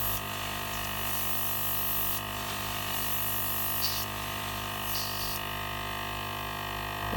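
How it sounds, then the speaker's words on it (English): Airbrush spraying paint over a galaxy-themed cake, a steady soft hiss of air that runs continuously, close and fairly quiet, with slight shifts as the brush moves back and forth. "I'm just very gently moving the airbrush back and forwards just to give it some"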